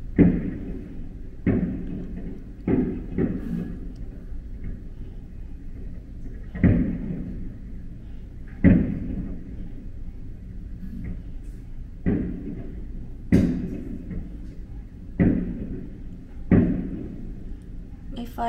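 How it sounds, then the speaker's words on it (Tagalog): Fireworks bursting outside a hotel on a Saturday night, heard as a series of dull, fairly distant thuds every one to few seconds over a low background murmur of voices. "So, every Saturday na pala ang fireworks."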